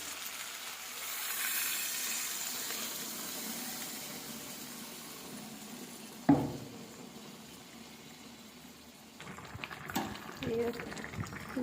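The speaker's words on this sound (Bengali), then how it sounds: "এবার জলটা দিয়ে দিচ্ছি।" Water poured into a hot pan of mixed vegetable curry, a soft hiss and bubbling that swells and fades, with a sharp clank midway and a voice talking over it.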